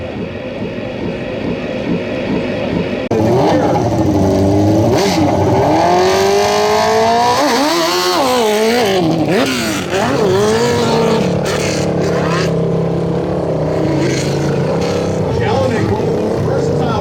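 A hill climb motorcycle screams at full throttle up a dirt slope at a Motoclimb Super Series open knobby event, its engine loud and sustained with rising and falling pitch sweeps, while an announcer talks over it.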